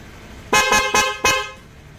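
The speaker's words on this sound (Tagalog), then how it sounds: "Sige, busina mo." Three short, loud horn toots from a Honda Click i 125 V3 scooter in quick succession, close by, over a quiet idling background.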